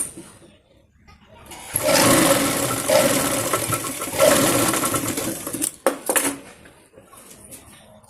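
A sewing machine runs in long, steady bursts as it stitches the main fabric of a small girl's palazzo, top and shrug outfit, closely recorded, with short pauses, a few sharp clicks and faint handling noise.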